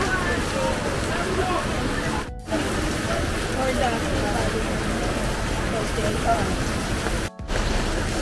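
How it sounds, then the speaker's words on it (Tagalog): Heavy rain pours as a dense, constant hiss on a Divisoria street in Manila, steady and loud throughout with two brief dips, and people speak faintly beneath the downpour. "Malakas ang ulan dito ngayon"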